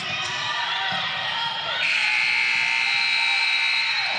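A girls' basketball game at a tournament gym ends the first quarter with a loud, steady electronic buzzer that cuts in partway through and holds to the end, over low crowd noise and a commentator talking.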